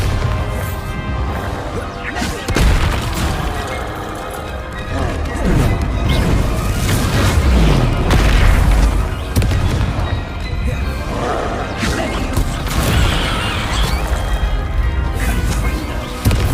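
Spells in the video game Hogwarts Legacy go off as a chain of loud crashes, thumps and whooshing blasts, with dense, booming impacts layered over a constant roar of battle.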